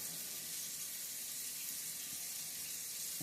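Tap water runs steadily into a sink, a constant close hiss with no talk, while water is warmed for making flatbread dough.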